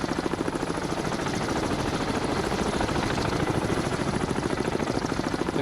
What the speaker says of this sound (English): I'm going to go ahead and just watch the helicopter.